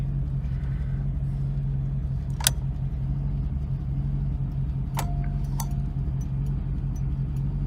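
A 1942 Packard 180 engine idles steadily with a low, even hum throughout, joined by a few faint ticks and clicks, quiet and without talk.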